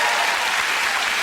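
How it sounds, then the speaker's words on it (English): A television talk show studio audience applauds in a steady, dense wash of clapping, loud and sustained with no voices over it. "So that round of applause"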